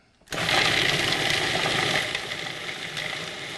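A food processor whizzes up nuts, starting abruptly and running as a loud, steady whir with slight rhythmic rattling that eases off a little toward the end.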